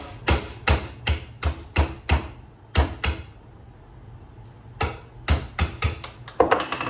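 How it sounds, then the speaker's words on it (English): Sharp metallic hammer blows on a punch drive a dowel out of a chair held in a vise, about a dozen hits in a steady rhythm with a pause in the middle, close and loud. "Use a punch and see if we can't drive that out."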